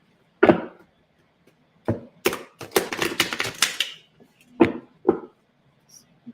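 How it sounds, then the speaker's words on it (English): Tarot cards being shuffled by hand, a run of crisp riffling and flicking bursts with a few sharp card taps before and after, close and fairly loud with no talking. "Let me give a good shuffle too here"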